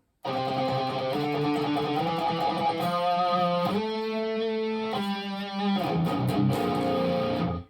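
An electric guitar plays a chorus riff slowly, sustained distorted notes shifting in pitch in a steady, deliberate line, close and without talk.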